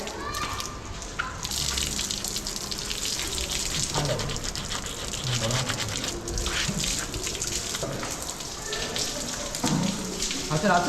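Water gushes and splashes continuously, poured and sloshing against an animal's legs as they are washed, with voices breaking in now and then.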